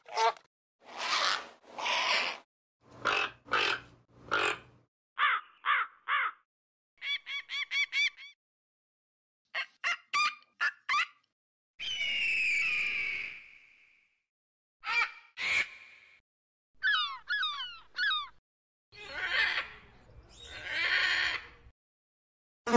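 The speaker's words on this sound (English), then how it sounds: "The toucan is a bird of black color with a beak of very bright colors." A toucan, a black bird with a huge, very brightly coloured beak, gives a string of loud, croaking and honking calls in repeated short bursts, some sharp and some rasping, with no talk over them.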